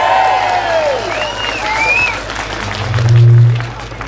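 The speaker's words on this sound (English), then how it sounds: "Put your hands together for Paul Alfumi." A crowd at an outdoor independence rally in George Square, Glasgow, applauds and cheers loudly and steadily for several seconds, with a brief low hum and some distant voices underneath.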